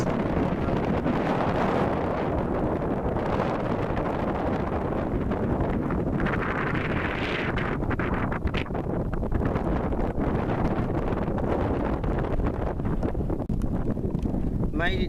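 Strong gusts roar continuously across the microphone on the exposed summit of Helvellyn, a dense buffeting rumble with no pause throughout.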